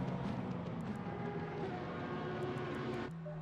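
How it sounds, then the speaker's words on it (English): Lamborghini V10 race car in a racing game at Zandvoort passing by, a steady loud engine drone holding for about three seconds before abruptly cutting to a lower hum. "We hear the sound there of another Lamborghini passing them up."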